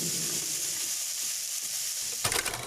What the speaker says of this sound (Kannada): ಗೋಲ್ಡನ್ ಕಲರ್ ಆಗೋವರೆಗೂ ಫ್ರೈ ಮಾಡ್ಕೊಳ್ಳಿ